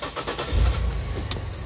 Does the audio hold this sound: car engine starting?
yes